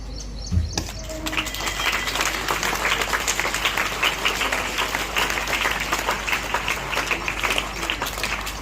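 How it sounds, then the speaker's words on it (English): Sustained audience applause at a school investiture ceremony, a dense, steady clapping roar from a large crowd that starts just under a second in and carries on at even loudness to the end. "Give them a huge round of applause."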